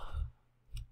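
Two soft computer mouse clicks sound close and faint in a quiet room, separated by about half a second.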